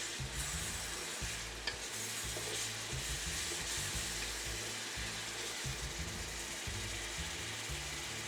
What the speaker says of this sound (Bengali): এখন আমি আদা রসুনের পেস্টটা দিয়ে দিচ্ছি।